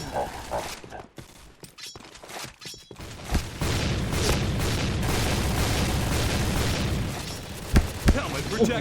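Gunfire and explosions in the Point Blank shooter game, starting with scattered sharp bursts, then a dense sustained barrage of rapid shots and booms with a few louder blasts near the end, and a voice talking over it.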